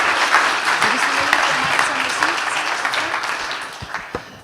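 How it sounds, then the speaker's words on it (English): Sustained applause from a conference audience clapping for three panelists, dense and steady with a faint voice on top, thinning toward the end. "can I invite everybody to give a round of applause to our 3 panelists"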